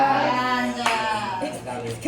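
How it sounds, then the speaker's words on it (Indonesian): Students in a classroom clap their hands together in a steady patter lasting a couple of seconds, with a few voices chattering over the clapping. "Oke, tepuk tangan untuk kalian semua."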